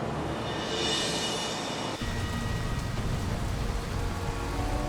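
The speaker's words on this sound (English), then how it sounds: "Back in the rain in BC" Rain falls on a highway in British Columbia, a steady loud hiss of downpour that shifts abruptly midway into a denser, rougher wash of water noise, with no voices.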